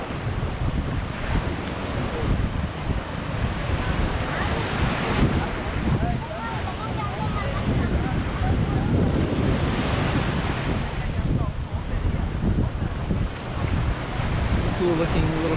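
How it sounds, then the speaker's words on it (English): Ocean waves rolling onto Playa Blanca beach near Cartagena, Colombia, a loud continuous surf roar with heavy wind buffeting the microphone and swells that rise and fall throughout. "When you see how far the waves are going in, it makes you wonder how long some of these places are going to last."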